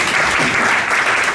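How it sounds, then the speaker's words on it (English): An audience at a business forum in Norway claps in a dense, even burst of applause, close and full for the whole short stretch with no break. "I heard an applause to that."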